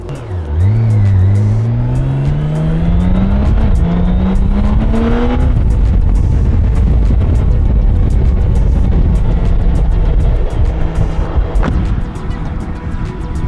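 A 2024 BMW K1600B six-cylinder bagger motorcycle accelerates hard through several gears, engine pitch climbing and dropping with each smooth shift, then settles into a loud steady drone with wind rush.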